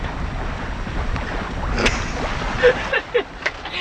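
A sailboat cruises northbound on Chesapeake Bay at about 4.9 knots, with steady wind rushing past the microphone over a low wash of water, a few brief creaks and knocks near the end.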